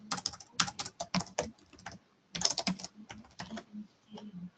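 Bursts of typing on a computer keyboard while entering material names in Autodesk Inventor software, rapid clustered key clicks separated by short pauses, close and fairly loud with no talking.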